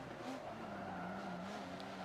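A Honda NSX race car in a video game has its tires breaking loose under heavy torque, with a faint, steady engine drone and a thin tire squeal held together briefly.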